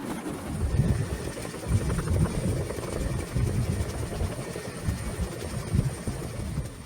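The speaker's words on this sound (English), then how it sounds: "the pilot will instead place the rear section of the fuselage down while keeping the helicopter hovering" Boeing CH-47 Chinook helicopter hovering during sling load training, a steady low rotor thump and rumble with a faint high whine, continuous and moderately distant.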